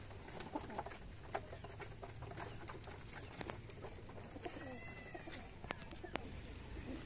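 Soft pigeon coos from a pigeon loft and scattered bird calls over a steady outdoor background hum, with occasional clicks and brief chirps.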